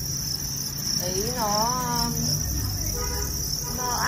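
Farmed crickets chirp steadily in a high, continuous trill at a home cricket farm, with someone speaking over them.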